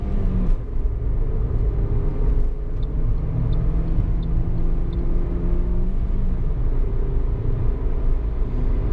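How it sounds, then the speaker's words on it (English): Cabin recording of a 2017 Toyota Yaris 1.3 petrol-hybrid pulling hard through the gears, with a steady low engine rumble and a rising whine, no talking. "stick this into second gear right now and floor it and go up through the gears"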